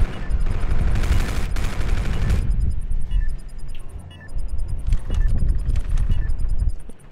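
Loud, close gunfire in Call of Duty: Infinite Warfare, with dense rapid bursts up front, then scattered shots and impacts and a brief lull before more firing.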